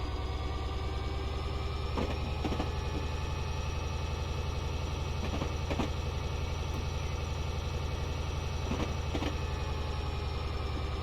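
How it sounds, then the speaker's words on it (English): Class 66 diesel locomotive in Train Simulator Classic runs with a steady, loud low engine drone and idling rumble, with faint clanks now and then. "Let's bring the speed up while we are on the exterior view, so get to hear the engine a bit better."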